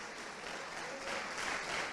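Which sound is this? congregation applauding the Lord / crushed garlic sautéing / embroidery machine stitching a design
congregation applauding the Lord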